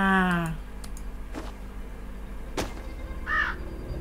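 A crow in the video game Draugen gives a short, harsh caw at the start and a fainter call a few seconds later, with sparse clicks and quiet ambience in between.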